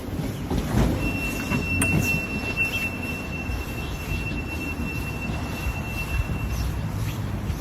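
A subway train runs past with a steady, loud rumble of wheels on rails, a sharp squeal ringing out near the start and a continuous metallic whine over the roar.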